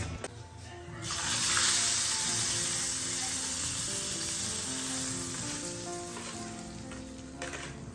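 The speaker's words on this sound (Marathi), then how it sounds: "त्याला फोडणी द्यायची आपल्याला" Spice tempering poured into hot oil for a South Indian kanji breakfast, bursting into a loud, sustained sizzle after a quiet second, then crackling steadily and close with faint stirring, no talking.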